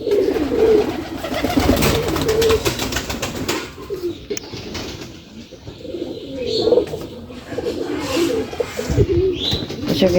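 Pigeons in a pigeon house coo continuously and close by, with wing flutters and scattered chirps, while a voice can be heard faintly in the background.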